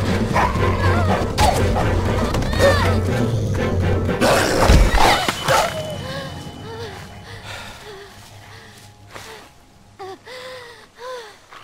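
A dog in The Walking Dead Season 2 video game barks and yips amid busy game sound, followed by several short whimpering yelps that grow quieter.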